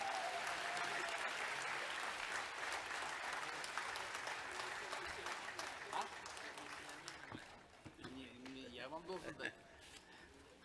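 Sustained audience applause at the opening ceremony of the Sabantuy festival in Kazan, a dense crowd clapping for most of the stretch before tapering off as an amplified voice begins speaking near the end.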